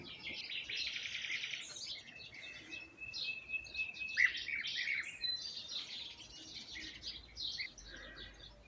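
Bee-eater birds calling around beehives in an apiary, a series of bright, repeated chirps and trills, some close and some more distant, over a quiet outdoor background with no talk.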